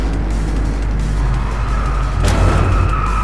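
Steady loud engine roar of hot hatch race cars in DRIVECLUB, with a rising whine as a rival pulls alongside on the outside and a brief tire squeal near the end.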